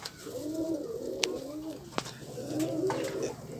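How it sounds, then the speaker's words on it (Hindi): A tumbler pigeon coos in soft, repeated throaty phrases, close by, with a few sharp clicks and faint background noise between the coos. "ये मेरा कबूतर है, देखो कैसा लग रहा है।"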